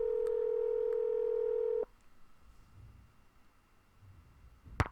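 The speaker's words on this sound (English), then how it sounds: "we need to call Anton" A steady telephone dial tone in the video game Nancy Drew: The Haunted Carousel holds for almost two seconds and then cuts off, leaving faint background hiss before a brief click at the end.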